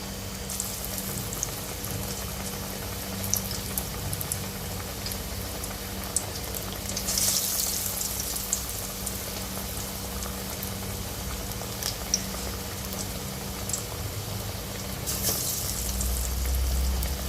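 A fresh batch of vadai bubbles steadily in hot oil, a continuous soft frothy crackle with faint sharper pops, close and even throughout, no voices.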